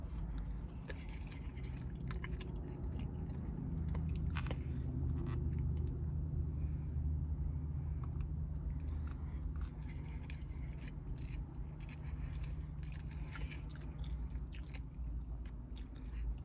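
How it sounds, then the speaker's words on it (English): Chewing on Jamaican rice and peas with shrimp, soft wet mouth sounds and bites repeating close to the microphone against a low steady background hum, no talking. "Taste the rice and peas first."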